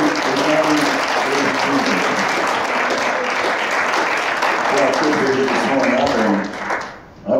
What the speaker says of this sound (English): Give him a big hand clap in the house this morning.